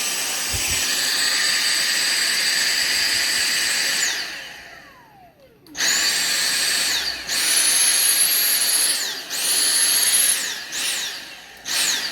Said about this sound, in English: You can see it is a bit more powerful there on max power mode.